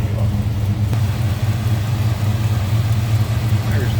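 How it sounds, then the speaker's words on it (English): A 1968 Plymouth Barracuda with a 440 engine and fiberglass front end idles, its exhaust making a steady, deep, throaty rumble that sounds loud and close, with no talking. "Nice deep throaty exhaust note."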